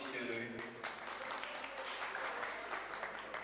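Enthusiastic applause from an audience at a school reunion held fifty years after graduation at a secondary school in Boradigah, a dense, steady clapping that fills the room with voices mixed in.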